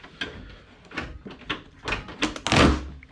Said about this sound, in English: Let me actually open this door.